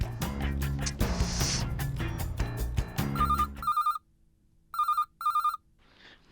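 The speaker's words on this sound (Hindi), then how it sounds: "नटू काका, सेठ जी का फोन।" A telephone rings in a Hindi TV comedy scene: loud, repeated electronic ringtone bursts with short pauses, starting just as the background music cuts out.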